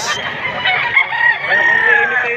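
A fighting rooster brought along for sale at a gamefowl market in Padre Garcia, Batangas, gives one loud, drawn-out crow close by, with no talk over it.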